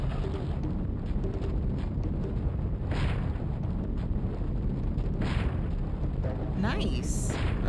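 Boulder rolling after the player in Crash Bandicoot: constant heavy rumbling roar with low booms throughout, a voice talking over it.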